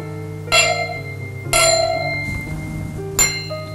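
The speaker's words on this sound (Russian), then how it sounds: "вот какой звук сейчас хрусталя." Baccarat crystal glassware rings out when struck, three clear bell-like tones spaced about a second apart, each bright strike decaying into a shimmering sustained hum, close and with no talking.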